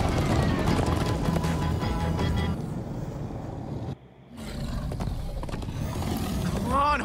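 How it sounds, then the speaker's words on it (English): Horses gallop in the Minecraft Story Mode video game, with a rapid, rhythmic clatter of hooves under busy game noise. The sound cuts out briefly, then the galloping resumes at the same pace. "Come on, horses!"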